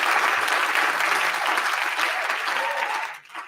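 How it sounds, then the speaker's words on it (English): Dense applause for Alejandro Garnacho during a Manchester United vs Luton Town Premier League match, steady clapping from a crowd that holds for about three seconds and then fades. "Let's clap hands for Garnacho."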